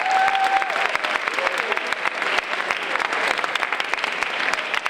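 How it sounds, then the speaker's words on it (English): Graduating students at a senior assembly applaud themselves, continuous thick clapping from a large room full of hands, loud and sustained throughout with a brief voice at the start. "Give yourselves a round of applause."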